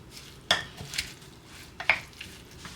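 A utensil stirs a spinach quiche mixture in a bowl, with a few sharp metallic clinks against the bowl between soft, close scraping sounds.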